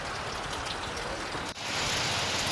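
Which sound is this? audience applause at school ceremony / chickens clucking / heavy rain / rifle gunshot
heavy rain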